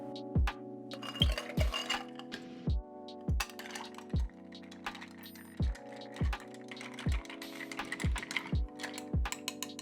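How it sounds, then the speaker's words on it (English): A bar spoon stirs ice in a cocktail of Amaro Montenegro and Barbados rum, a close, steady rhythm of light clinks and ice knocks repeating roughly every half second. "Now let's add some ice and give it a stir."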